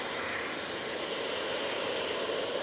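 An airliner departs Manchester Airport, its engines producing a steady, broad roar that stays constant throughout, heard from a moderate distance.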